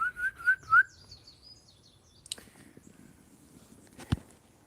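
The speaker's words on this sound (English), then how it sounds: "Listen to the birds." Outdoor birdsong on a calm day: a few bright whistled chirps in quick succession at the start, then sparse, fainter calls and a couple of sharp ticks over quiet background.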